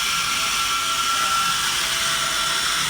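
The motors of an E99 dual-camera toy drone whine steadily with a high, buzzing hum, close and continuous with no talking.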